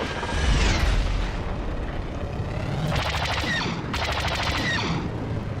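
A grenade explodes and blaster fire rattles in Star Wars Battlefront II, with a low boom early on and then two dense bursts of rapid, crackling automatic shots over a constant rumbling battle background.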